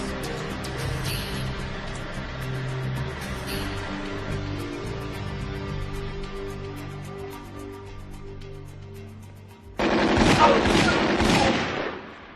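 Gunfire rakes a Chevrolet Caprice, a sustained barrage of shots under a dense, music-like backdrop, then a sudden loud burst of crackling, impact-heavy noise in the final seconds.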